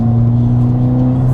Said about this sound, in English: That is such a good induction sound.